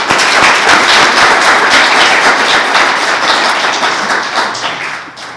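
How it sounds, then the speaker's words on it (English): A full room applauds faculty authors at a university authors and artists celebration, loud and continuous clapping that holds steady, then thins and fades toward the end. "And one more round of applause for all of our authors."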